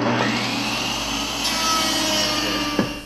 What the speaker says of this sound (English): Now I'm going to use this board here. It's just kind of a test board. I'm going to feed it through and create a groove.